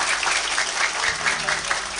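Crowd applause at a live public event in Indonesia greeting a regent, a steady dense patter of clapping that holds evenly for the full two seconds.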